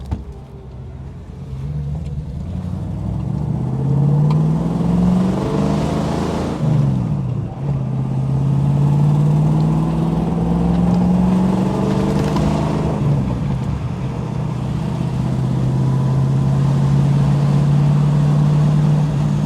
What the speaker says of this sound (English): Now just have a listen to this engine as we accelerate up the hill.